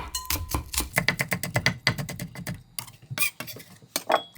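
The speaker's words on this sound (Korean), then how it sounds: "숙주내물에 들어갈 대파를 썰 건데요. 총총총총 썰어주세요." A knife chops green onion on a cutting board in rapid, close, rhythmic taps, pausing briefly before a few more cuts.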